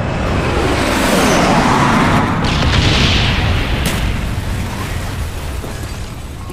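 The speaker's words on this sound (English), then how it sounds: "Enemy napalm strike incoming." Napalm strike in Call of Duty: Black Ops, a long roaring explosion with rumbling fiery wash that swells, sustains for several seconds and slowly fades, loud and close with no talk.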